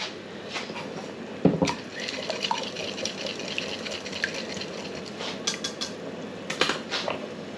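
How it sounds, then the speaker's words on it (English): Cold water pours and splashes steadily into gravy mix in a container nearby, with a few clinks and knocks along the way. "just pop a little bit of cold water in so it thins it down just a tad"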